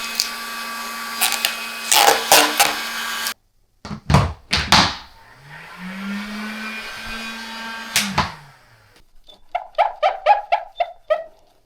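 A heat gun blows on the fuel tank of a KTM 390 Adventure R motorcycle. Its whooshing drone starts and stops between loud clunks and handling knocks, and a short series of beeps closes the clip.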